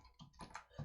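Quick keystrokes on a computer keyboard entering a web address in a browser, a few short clustered taps at close range in a quiet room with no voice.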